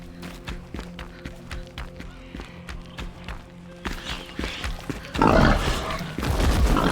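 Pig grunting inside a cave in the video game Enshrouded, a series of short rhythmic grunts over steady ambient tones, then louder rushing noise taking over near the end.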